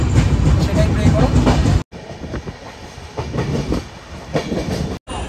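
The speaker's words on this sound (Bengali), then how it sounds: "তো ট্রেন ছেড়ে দিয়েছে" A moving Howrah–Puri superfast passenger train rattles with steady clickety-clack from the wheels, loud and continuous from inside the carriage, broken by two short gaps.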